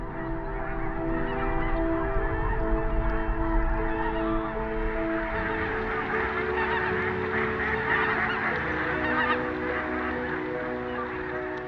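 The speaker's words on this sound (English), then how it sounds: "Reelfoot Lake in western Kentucky is home to thousands of migratory birds." Large flock of migratory geese honking continuously at Reelfoot Lake in western Kentucky in winter, a dense, loud chorus of overlapping calls steady throughout with no talking.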